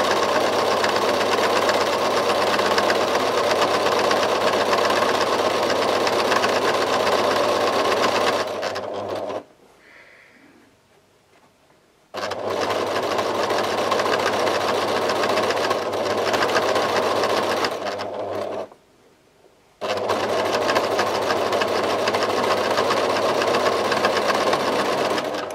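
A sewing machine stitches the side of a tea towel tote bag in long, loud, steady runs of whirring hum, broken by two short silent pauses before stitching resumes.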